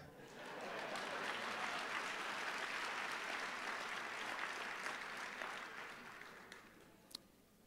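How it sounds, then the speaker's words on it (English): Applause from an audience at an MLK Jr. memorial breakfast keynote rolls steadily for several seconds, a dense wash of many hands that fades out toward the end, fairly faint and distant. "Let me get more than one clap on that."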